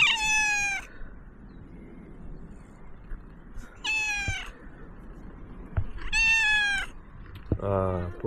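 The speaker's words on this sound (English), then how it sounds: "look, beautiful cat over here" A cat on a street in Crete lets out three loud, drawn-out meows spaced a few seconds apart, close by, with quiet street background between calls.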